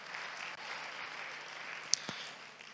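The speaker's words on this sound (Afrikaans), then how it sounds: "Kan ons groot applous kry vir hulle?" An audience at a senior debate competition gives the teams a round of applause, a soft, continuous patter of clapping heard from a distance throughout.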